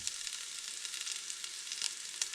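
Leeks frying in chorizo oil in a pan give a steady, close sizzling hiss that runs throughout, with a few brighter pops and spits.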